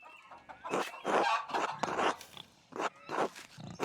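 Chickens in the video game Pentiment give bursts of clucking and squawking in irregular clusters, close and fairly loud, with short pauses between calls and no talking.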